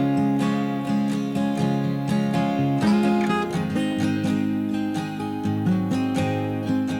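A finger-picked guitar part with tape-style saturation and crunch plays sustained, overlapping notes over a continuous, full-sounding background, close-miked and steady with no talking.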